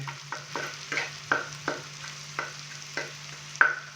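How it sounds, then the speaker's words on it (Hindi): Okra frying in a pan as a spatula pushes it aside to clear space for eggs: repeated scraping strokes in a steady rhythm over a continuous low sizzle, close up, with no talking. "दरमियान में से मैंने भिंडी को साइड पे कर दिया है"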